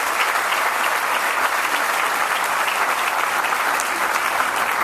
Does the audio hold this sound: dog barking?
no